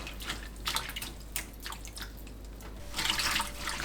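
Cabbage being rinsed under water: quiet running and dripping water with scattered splashes, swelling into a fuller gush of water near the end.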